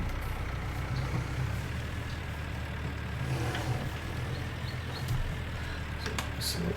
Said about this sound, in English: And turn the tractor around.